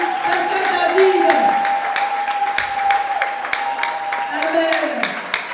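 A church congregation applauds and cheers in acclamation, steady clapping spread through the hall with a sustained tone and voices rising underneath.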